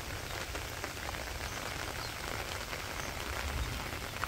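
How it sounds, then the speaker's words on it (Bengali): Steady rain falls on a Bangladeshi village during the rainy season, a dense, even hiss of drops hitting the ground and water that continues throughout with no talking. "এই দেখেন বৃষ্টিতে কত জল জমছে"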